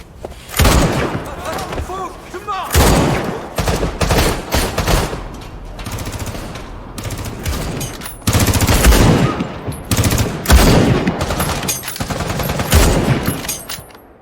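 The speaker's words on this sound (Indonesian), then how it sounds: "tiba-tiba melepaskan tembakan jarak jauh menewaskan beberapa orang anak buah Mansur" Long-range gunfire in an action film scene: loud, repeated bursts of shots and impacts under a dramatic soundtrack, with dense stretches of firing.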